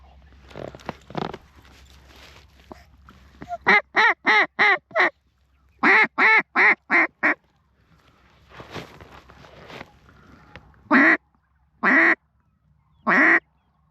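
Ducks quack during a field hunt for ducks and geese, loud close bursts of rapid calls in rhythmic series, separated by stretches of quieter rustling and movement.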